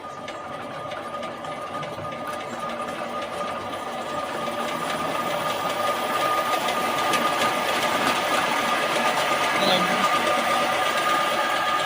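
An electric scooter's motor revving hard to spin a generator, a steady whining, buzzing drone that grows slightly louder and holds close and continuous with no break.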